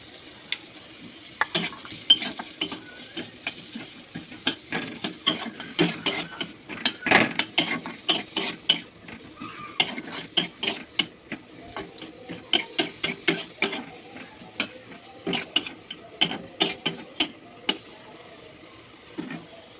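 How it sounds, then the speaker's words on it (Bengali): Onion and capsicum fry in a pan for chicken roll filling, with repeated scraping and clinking of a spatula stirring over a faint sizzle, close by and irregular in rhythm. "আমি আগে পেঁয়াজটা ভেজে নেব, আর এখান থেকে ক্যাপসিকামটাও দিয়ে দেবো"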